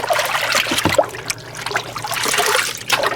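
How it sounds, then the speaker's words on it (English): Water splashes and trickles steadily as a gold pan is rinsed out during drift mining, a close, continuous wash with a few sharper splashes and no talk. "I'm gonna wash out my gold pan."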